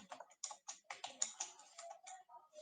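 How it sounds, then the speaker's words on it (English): A password is typed on a computer keyboard in a Linux terminal: a quick, uneven run of close, light key clicks, about a dozen taps in a row, with no talk. "and typing this password"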